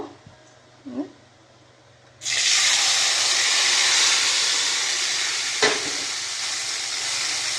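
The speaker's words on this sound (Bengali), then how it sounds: "আমি এই যে টমেটোগুলো দিয়ে দেবো যে টমেটোগুলো সেদ্ধ করে রেখেছি ওটা দিয়ে দিব" Boiled tomatoes drop into a hot frying pan for tomato chutney, setting off a sudden loud hiss and sizzle that stays strong and steady to the end after a quieter opening with a couple of soft knocks.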